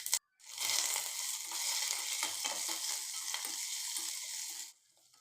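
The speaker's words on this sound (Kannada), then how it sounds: "7-8 ಎಸ್ಲು ಬೆಳ್ಳುಳ್ಳಿ, 1/2 ಟೀ ಸ್ಪೂನಷ್ಟು ಜೀರಿಗೆ ಹಾಕ್ಕೊಂಡು ಫ್ರೈ ಮಾಡ್ಕೋಬೇಕು." Chopped onion, garlic and cumin seeds hit hot oil for a Coorg-style dry fish curry, bursting into a steady bright sizzle with light crackling and stirring that holds for several seconds, then drops away abruptly.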